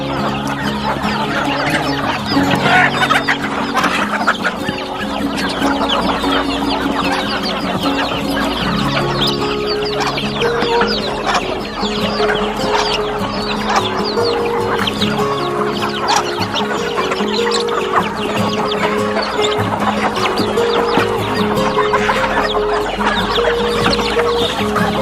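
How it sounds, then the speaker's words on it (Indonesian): Free-range village chickens fed maggots cluck steadily in a busy flock while eating, with overlapping close clucks and occasional distant crowing over continuous farmyard ambience. "Keseruan kita melihat ayam makan."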